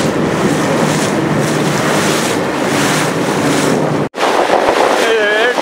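A boat moving through choppy water on the Delaware River, a loud rushing wash of water and wind that cuts out briefly, then returns with faint chirping in the background.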